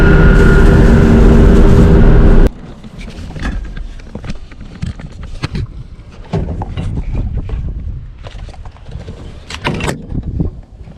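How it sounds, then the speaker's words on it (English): Loud, steady wind roar fills the opening seconds, then drops to a gusty rumble with irregular buffeting and scattered clicks and knocks. "it's a little windy"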